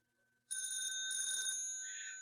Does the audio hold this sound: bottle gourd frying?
no